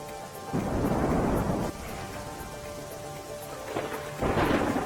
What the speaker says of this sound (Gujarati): ભારે વરસાદથી અંબિકા નદી પ્રથમ વખત ગાંડીતૂર બની.